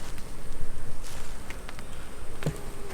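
Honeybees buzz steadily around an open hive holding two queens, a dense, close insect hum with swelling and fading wingbeats and no voices.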